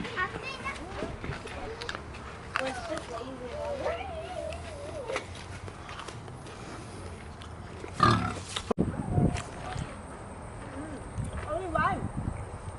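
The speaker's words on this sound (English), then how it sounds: "Listen, the piggies go crazy in there" Pigs squeal and grunt in a pen at a historic farm site, sharp excited squeals rising over voices of people talking nearby, with an outdoor background.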